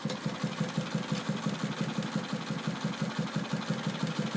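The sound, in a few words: sewing machine stitching quilt patches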